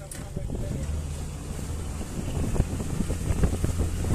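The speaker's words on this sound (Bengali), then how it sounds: "পাত্রাতু লেকে এবারে বোটিং আরম্ভ হলো স্পিড বোটে" A speed boat runs across Patratu Lake, Jharkhand, its engine humming steadily beneath rushing wind buffeting the microphone and splashing water, with occasional voices faintly under the noise.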